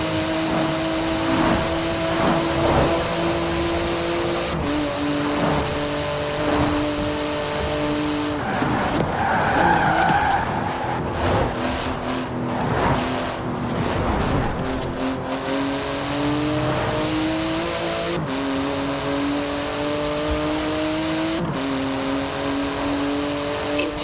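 A fast car in Forza Horizon 4 roars continuously at high revs, its engine pitch rising through gears with shifts and brief tire squeals, loud and close throughout.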